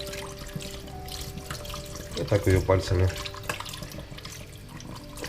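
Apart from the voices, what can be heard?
rinsing potato slices under running water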